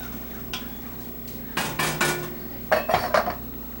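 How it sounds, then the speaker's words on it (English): Metal utensil stirring Swiss chard, barley, pancetta and cannellini bean soup ingredients in a pan, giving a few distinct scraping and clinking strokes in two short bursts, close and clear with no talk. "Give it a nice stir."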